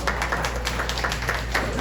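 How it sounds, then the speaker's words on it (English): A crowd at a Philippine women's futsal team lineup presentation claps steadily in continuous applause, moderately loud, with no voice over it. "A round of applause"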